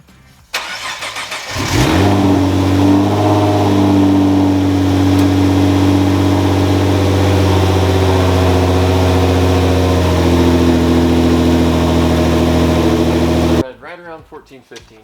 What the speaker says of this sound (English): I'm going to start the GTR real quick